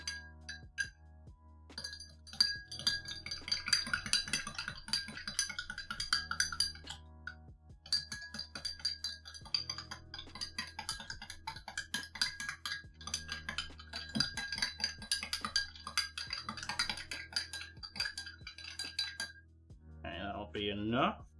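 Ice cubes clink and rattle against a glass as iced Vietnamese coffee is stirred, a steady bright jingling in repeated bursts, with someone talking over it.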